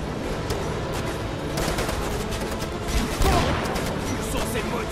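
Covering fire in the video game Conflict: Denied Ops during an oil refinery raid, a steady wash of automatic shots and distant battle noise, with voices talking over it.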